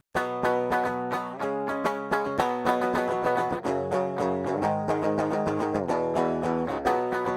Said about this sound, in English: we have a double-tracked stereo guitar DI that sounds like this